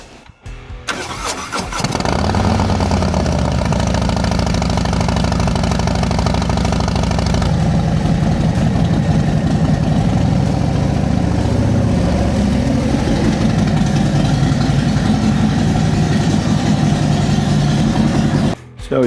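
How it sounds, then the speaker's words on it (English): A Harley-Davidson Low Rider S motorcycle with a 131 engine starts up and settles into a loud, close, steady idle as it warms up, the lumpy rumble running without break. "I'm gonna go warm up the lowrider and bring it up here for him"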